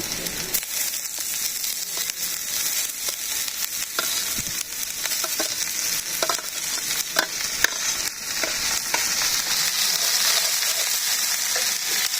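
Red amaranth leaves sizzle in a pan where meat has been frying, a steady bright crackle with scattered pops and stirring throughout.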